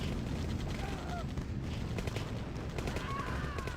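Rifle gunfire crackles in a real-time strategy battle in OpenRA Tiberian Dawn, dense rapid bursts of shots layered under continuous excited commentary.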